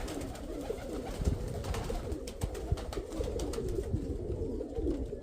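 Pigeons coo repeatedly and close by among a flock of Mykolaiv pigeons, with soft wing flutters and rustling and no talk.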